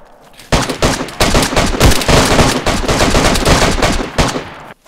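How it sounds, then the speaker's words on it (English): Sustained gunfire in DayZ, loud and close, with rapid shots crackling almost continuously for several seconds before stopping abruptly. "Oh, I'm getting shot."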